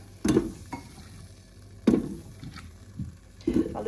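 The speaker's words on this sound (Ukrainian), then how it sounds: "Картоплю всю виложую, ну, а зверху, зверху ці стегенця" Potato pieces drop into a Ninja air fryer basket in three soft, separate thumps and clatters, close by and spaced out, with quiet between them.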